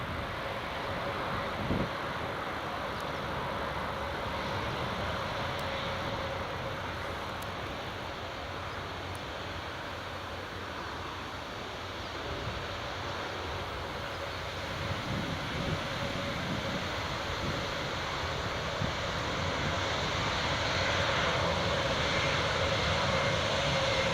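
A Belgian Air Force A400 rolls along the runway at Newcastle Airport, its turboprop engines giving a steady, distant droning roar with a faint tonal hum that grows slightly louder toward the end.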